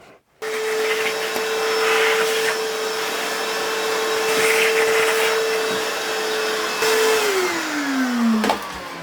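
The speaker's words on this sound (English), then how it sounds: "we'll get the hoover out and clean up a little bit before we start" A Hoover vacuum cleaner running in a machine shop gives a loud, steady motor whine that holds for several seconds and then winds down in falling pitch as it is switched off.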